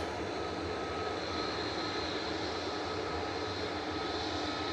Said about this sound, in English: the arrival from Dublin, flight 558, EI-EVA. Just on short final now